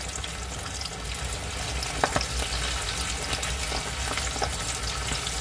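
Floured chicken wings fry steadily in a pot of oil, a continuous dense sizzle with a few sharper pops and crackles, close by, with no talking.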